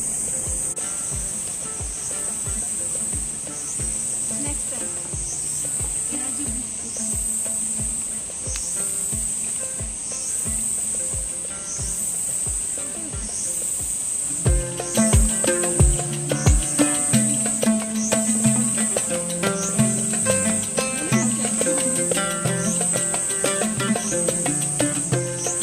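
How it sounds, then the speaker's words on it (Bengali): Dense, steady cricket chirping fills a jungle beside a stone trail on a mountain trek to the Valley of Flowers, a continuous high insect trill that grows busier and louder halfway through, with no talk. "কি সুন্দর রাস্তা, আর চারিদিকে জঙ্গল আর ঝিঝি পোকার ডাক।"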